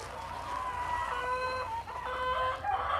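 A flock of laying hens clucks steadily close by in their coop, with overlapping drawn-out calls and squawks throughout and no talking.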